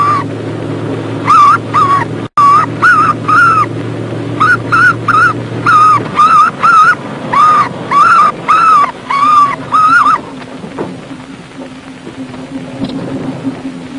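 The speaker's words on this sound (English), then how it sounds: "First you've got to recognise the type of bird, and then play a tape of distress calls." Recorded bird distress calls played to scare birds off a Royal Air Force airfield, a loud rapid series of harsh, repeated squawking bursts in regular groups over a low engine hum, sounding close and electronically reproduced.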